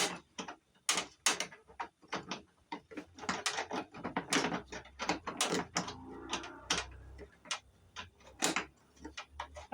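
A ratchet works on the fuel system fittings of a Craftsman GT mower with quick, faint, close clicking. The bursts of rapid ticks stop and start in short strokes.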